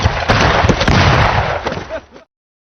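Gunfire in a film scene, a dense loud burst of overlapping shots and blasts lasting about two seconds before cutting to silence.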